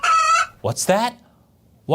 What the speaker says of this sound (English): it's the sound of their chickens coming home to roost.